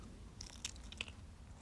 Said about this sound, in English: Sounds like it got a nice crunch to it.